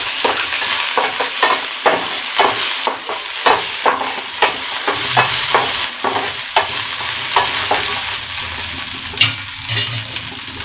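Green chili, curry leaves and ginger fry in hot oil, a loud, continuous sizzle and crackle over the whole stretch, with a utensil scraping and stirring at irregular moments, close and without speech.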